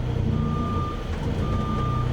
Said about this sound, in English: shift to reverse, and I'm going to back the bus up just like this